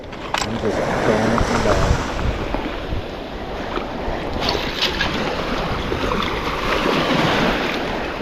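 Seashells are rinsed in seawater on Sanibel, a loud, steady wash of splashing water and surf with wind noise close to the mic, and people's voices come in now and then.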